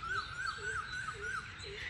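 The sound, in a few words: birds calling in a city park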